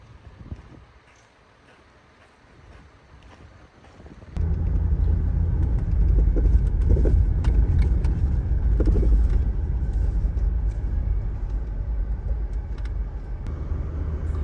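Off-road vehicle driving a rocky canyon trail in the San Rafael Swell, Utah: a quiet start gives way abruptly to a loud, continuous engine rumble and tire crunch with wind buffeting. No one speaks.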